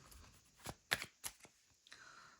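A few crisp papery riffles and snaps of tarot cards being shuffled, brief bursts separated by short pauses, close and fairly quiet.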